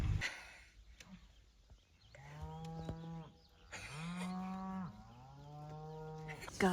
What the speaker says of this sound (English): the cows are coming back now